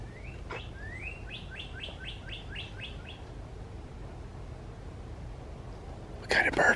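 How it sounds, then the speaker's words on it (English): A bird sings a quick series of bright, rising chirps, repeated about eight times, followed by quiet outdoor ambience along a boardwalk path and a brief rustle at the end. "You can hear all the birds, all this nature sounds."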